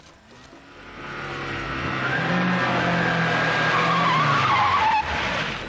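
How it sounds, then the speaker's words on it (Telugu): A car races in at high speed, its engine swelling as it nears, then the tires screech in a long skid to a stop; the sound is loud and close, with no talking. "మెరుపు వేగంతో కారు వచ్చాగింది."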